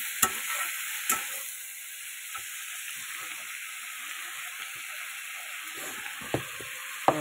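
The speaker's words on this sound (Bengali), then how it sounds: "এই যে পেঁয়াজকালি কড়াইতে দিয়ে দিয়েছি, লবণ হলুদ দিয়ে দিলাম, এবার এটাকে ভালো করে একটু ভেজে নেব" Onions fry in a wok with salt and turmeric, giving a steady soft sizzle and hiss broken by several sharp scrapes and clinks of stirring.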